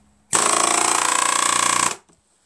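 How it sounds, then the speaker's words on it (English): A pneumatic air hammer, powered by a Brute Briggs & Stratton 10-gallon air compressor at low pressure, rattles loudly in one steady, rapid burst for about a second and a half, then cuts off abruptly. "This is the air hammer."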